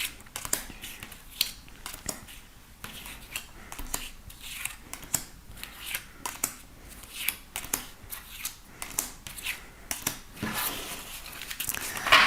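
Tarot cards are drawn one by one from a deck in a quiet room, making light repeated papery flicks and slides at an uneven pace for about twelve seconds.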